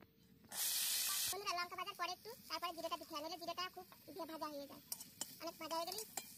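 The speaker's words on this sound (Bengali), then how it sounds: "এবার আমি লঙ্কাটা আর জিরেটা ভেজে নেব।" Chili and cumin fry in a pan, a loud hiss at the start giving way to spattering sizzle and utensil clinks, with someone talking over it throughout.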